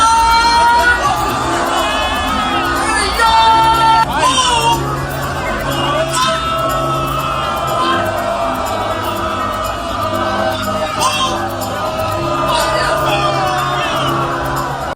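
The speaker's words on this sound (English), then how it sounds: "the crowd started booing him" A large festival crowd at Rolling Loud jeers a rapper, a loud sustained mass of yells and boos with scattered whoops, mixed with talk and babble throughout.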